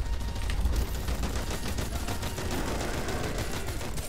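Single rounds fired one after another in the shooter game Truy Kích on a construction-site map, a regular run of crisp shots over dense, loud background game noise.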